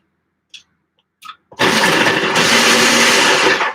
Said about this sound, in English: I have this chopper now for a year and a half or so